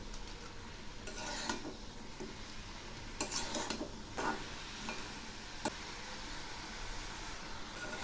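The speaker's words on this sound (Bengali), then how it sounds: "এবার আমি এর মধ্যে ইলিশ মাছের মুড়োটা দিয়ে দিলাম, আবার একটু নেড়ে দিচ্ছি।" A utensil stirs cabbage with a hilsa fish head in a pan, giving faint, scattered scrapes and clinks over a low sizzle that continues throughout, with no talk.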